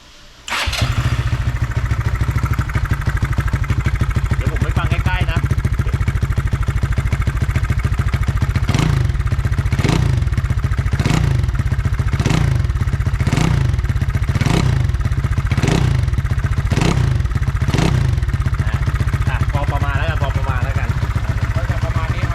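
A modified GPX Drone motorcycle engine with a 59 mm piston idles with a deep, throaty rumble, then revs sharply about a dozen times in a steady rhythm, each blip loud and close.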